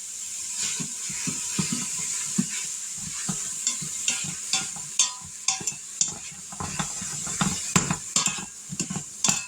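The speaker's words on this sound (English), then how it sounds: "And you want to cook this hamburger meat till it's no longer pink." Hamburger meat fries in an Instant Pot, with a constant sizzle and frequent scraping clicks from a chopping stirrer broken into irregular bursts, close and clear with no talk.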